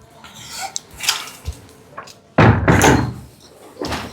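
Door opening and closing in a home: a soft early click and brief thuds, then a louder, close slam-like burst with rattling that tails off, followed by another knock.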